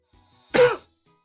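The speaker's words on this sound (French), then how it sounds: "Encore une fois, désolé pour la toux." One short, sharp cough breaks a quiet moment, close and fairly loud, with silence before and after.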